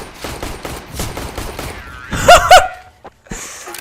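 Rapid bursts of automatic gunfire from a shooter video game rattle close and loud for about two seconds, followed by a couple of sharper, heavier shots and a brief pause, with a faint voice underneath.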